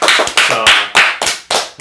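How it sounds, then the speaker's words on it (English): Hosts clap in a short burst of about seven sharp, loud claps close to the mic, with no talk over them. "So let's just have a little applause for that."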